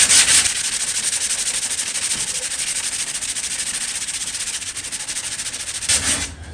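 Continuous hissing rasp of sandpaper scrubbing a 1965 Chevrolet Nova's car panel, steady and close for several seconds, briefly louder at the start and near the end.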